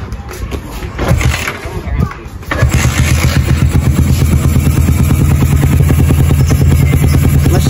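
A Kawasaki Ninja-style motorcycle with a PE28 carburetor cranks over with a couple of rough bursts, catches around the halfway mark and settles into a loud, steady, close-up idle with an even rapid pulse; someone talks over the start.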